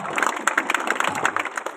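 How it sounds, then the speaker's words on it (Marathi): An audience at a lecture clapping loudly and steadily in a short continuous burst of many hands. "टाळ्या वाजवा तिच्यासाठी,"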